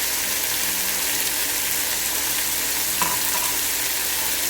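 Cauliflower masala sizzling in a pan after a splash of water is added, a continuous bright hissing fry with a faint stir clink partway through.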